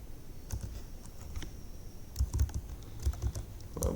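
Typing on a computer keyboard while writing Arduino code, quiet clustered key clicks in short irregular bursts over a soft background hiss.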